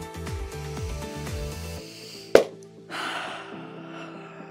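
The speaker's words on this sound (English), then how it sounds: "We're gonna inhale in 3, 2, 1." A deep inhale during a breathing exercise, one sharp gasping intake followed by a longer airy breath, close, over soft background music.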